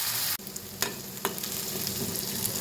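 Moong dal cooks in oil in a pan over a low flame, giving a soft, steady sizzle with a few sharp spoon scrapes and taps as it is stirred.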